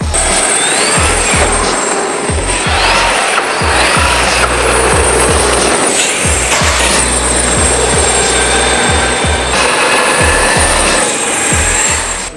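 A Traxxas X-Maxx RC monster truck running on four batteries cruises at partial throttle, its motor whine and drivetrain buzz steady and loud, with gravel and surface scraping crackling underneath throughout.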